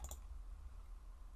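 Two quick, faint mouse clicks in close succession at the start, then quiet low hum while working in LabVIEW NXG software on a computer.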